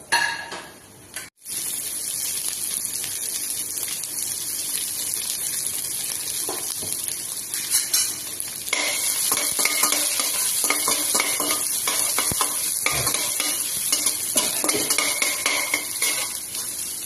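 Whole spices—cinnamon pieces, cardamom, cloves and peppercorns—fry in a pan for chicken biryani, with steady close sizzling and repeated spoon stirring and scraping against the pan, growing louder partway through.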